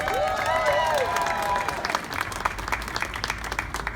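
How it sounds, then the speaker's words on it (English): Audience applause breaks out for a former hotel vice president of human resources at a St Patrick's Day event at New York New York Hotel Casino. Steady clapping swells under a brief voice with a tonal note early on, then thins. "Give her a round of applause."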